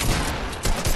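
Rapid bursts of gunfire from a one-on-one video game match, a dense, loud volley of overlapping shots that fills the whole second with no talk.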